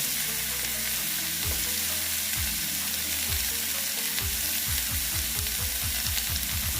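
Snake gourd (chichinga) pieces frying with salt in a pan give a steady close sizzle, with a run of soft rhythmic scraping thumps from stirring, no voices.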